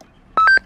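Walkie-talkie roger beep after the push-to-talk button is released: a short, loud, close electronic tone in three quick pulses lasting under half a second, with no voice.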